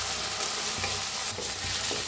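Tomatoes are roasted with garlic and chilies in a hot pan, giving a constant close sizzle with a few soft stirring scrapes and no voices.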